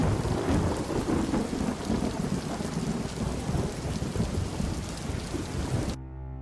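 Heavy rain pours steadily with rolling thunder in the video game Detective Di, a dense, loud storm wash that fills the scene before cutting off abruptly near the end.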